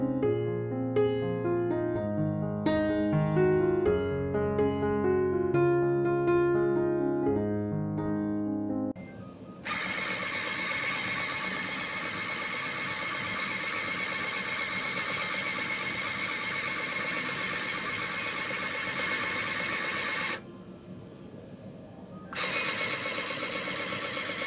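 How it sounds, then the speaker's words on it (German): A Sinclair ZX Printer driven by a Sinclair Spectrum whirs steadily through a long continuous printing run, a loud even mechanical buzz with one brief pause, preceded by a short electronic melody. "Und noch einen Druck mit dem Sinclair Spectrum."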